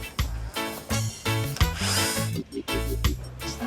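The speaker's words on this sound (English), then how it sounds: "You're getting in with a flathead screwdriver, maybe my drill as well, and undoing some screws." A drill or screwdriver backs screws out of the top of a vintage slide projector, with short whirring bursts in an uneven stop-start rhythm, close and fairly loud with no talk.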